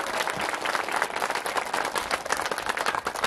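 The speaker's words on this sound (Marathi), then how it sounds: "जोरात टाळ्या वाजवा." An audience at a kirtan during the Ashadhi Wari 2024 pilgrimage claps hard and continuously, a dense, loud wash of applause from many hands with no talking.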